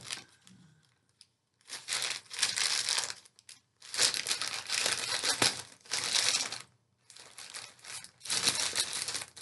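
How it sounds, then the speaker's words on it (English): Plastic and paper wrapping on a mailed parcel of wool crinkles and tears as it is opened, loud close bursts of rustling separated by short quiet pauses. "I'm going to open this parcel up"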